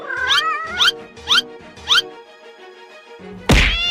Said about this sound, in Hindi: ले, कुचल गई बिल्ली।